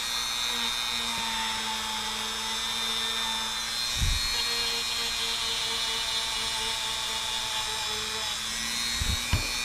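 A Dremel rotary tool with a grinding wheel works along the edges of a Glock pistol frame, giving a steady, close, high-pitched whine with a few brief bumps as the wheel touches the polymer.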